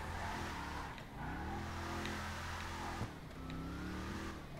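A big-displacement car in GTA 5 accelerating and drifting, with a loud, continuous engine revving as it climbs through the gears and a brief dip before it revs up again.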